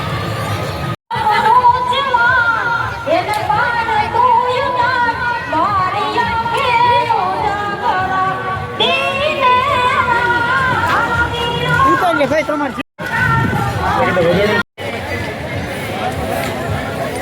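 A dense crowd at the Tarnetar fair in Gujarat makes a steady, loud hubbub of overlapping voices and chatter, with occasional shouts rising out of the babble.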